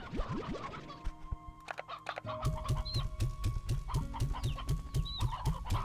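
Chickens in the video game Slime Rancher 2 cluck in busy, overlapping bursts alongside rhythmic scratching and game effects, loud and close.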